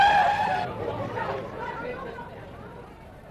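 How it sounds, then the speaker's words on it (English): A car skids sharply with a high tire squeal at the start, then a rougher rolling noise fades away under a background of voices, staged as a radio drama effect. "Lonsdale, look out! The car!"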